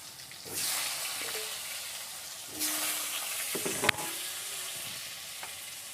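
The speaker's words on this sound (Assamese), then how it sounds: "মই এইখিনি একেলগে ভাজি ল'ম।" Turmeric and cumin powder frying in oil give a soft, close sizzle that flares up in bursts as the pan is stirred, with a few scraping clicks of the spoon, fairly quiet overall.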